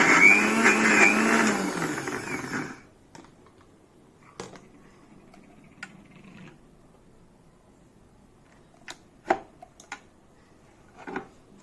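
A mixer grinder whirs loudly for under three seconds while grinding sprouts, then stops, leaving quiet clicks and small handling knocks.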